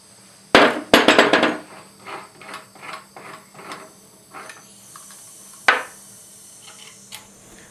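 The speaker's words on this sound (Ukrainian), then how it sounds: "нам буде потрібен спеціальний ключ, яким ми відкручуємо кришку редуктора" A special wrench unscrewing the cover of a gearbox reducer during repair: a burst of sharp metallic clanks and taps up close, followed by a run of lighter ratcheting knocks and one more hard clank near the end.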